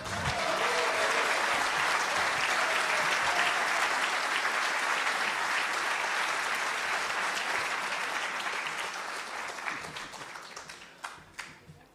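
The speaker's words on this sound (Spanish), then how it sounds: "Lo recibimos también con un aplauso a Darío Quiroga." A theater audience at a live show applauds a guest as he arrives, sustained full clapping that holds steady for most of the span, then thins out near the end to a few scattered claps.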